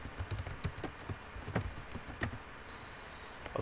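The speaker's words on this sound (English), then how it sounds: "Let's even press enter and type in our password." Password being typed on a computer keyboard, a steady run of close, clicky keystrokes with irregular rhythm and no speech.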